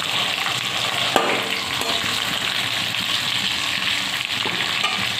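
Tomato, ginger and whole spices (cardamom, cinnamon, cloves) frying in a hot tempering, a loud continuous crackling sizzle with a couple of brief stirring scrapes, close up and without voices.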